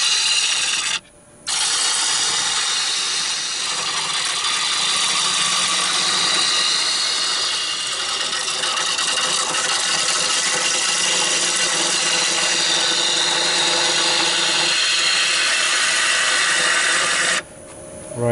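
A wood lathe spins as a gouge rides its bevel into the turning wood, giving a steady, close scraping and rasping cut that runs almost unbroken, pausing briefly near the start and again near the end.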